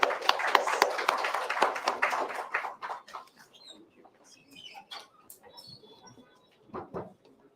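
Audience applause welcoming a speaker to the podium at the Accendo 2022 event, a burst of clapping that is strongest at first, then thins to a few scattered claps and fades out.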